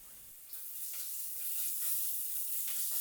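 Ginger, garlic and chopped green chilli sizzle in hot oil for a rasam, a bright steady hiss rising as they are stirred, with faint soft scrapes.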